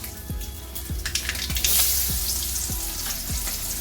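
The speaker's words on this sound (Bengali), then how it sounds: "শুকনো লঙ্কা আর গোটা সরষে ফোড়ন দিয়ে দেবো।" Dry red chillies and whole mustard seeds hit hot oil in a home kitchen, giving a steady close sizzle and crackle, with a few sharp pops and clinks of a utensil stirring at regular intervals.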